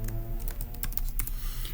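Rapid computer keyboard typing, a steady run of close, crisp key clicks with uneven rhythm over a low hum, no voice.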